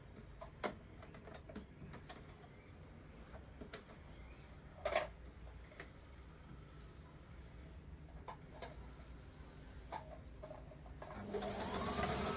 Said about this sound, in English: we're going to stitch the two skirts together